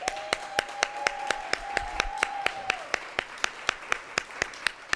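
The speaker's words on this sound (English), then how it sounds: "a big round of applause for all of our fellows" Sharp, evenly spaced claps at a fellowship graduation ceremony, falling in a steady rhythm for the whole stretch. A sustained tone hums beneath them for the first half before fading out.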